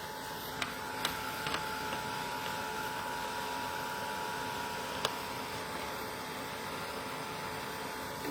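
A heat tool blows a steady, even whoosh of air while drying paint on an art journal page, with a faint tonal hum and a few small clicks over the continuous noise.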